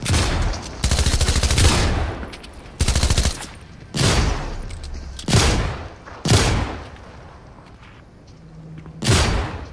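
Shotgun gunfire in the video game Fortnite comes as a series of loud, booming blasts, about six of them at irregular intervals, each with a long rumbling decay.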